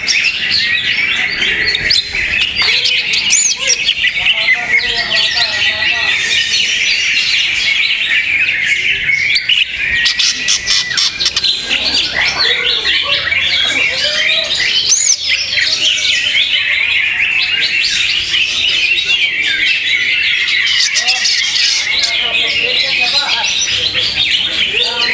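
A caged green leafbird (cucak ijo) sings loudly and continuously, with dense rapid chirps and warbling phrases running without pause for the whole stretch, close to the listener.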